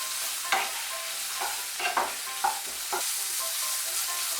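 Bitter gourd tossed with turmeric powder sizzles in a frying pan, with a steady hiss of oil broken by several soft stirring scrapes spaced about half a second apart, close and fairly quiet, no voices.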